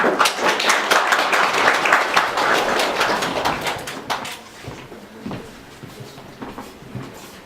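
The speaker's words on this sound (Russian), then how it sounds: "Ваши аплодисменты." An audience at a stage event for Sakha oral storytelling gives dense, loud applause that welcomes a guest performer from the Nyurba district, then thins into scattered claps and fades.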